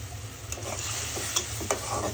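Prawns hit hot spices in a pan and are stirred, a steady close sizzle broken by a few sharp scraping strokes of the spoon.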